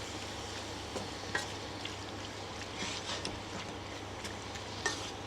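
Prawns sizzle steadily in a hot pan, a soft continuous frying hiss punctuated by occasional light scraping and clinks of a utensil against the pan bottom.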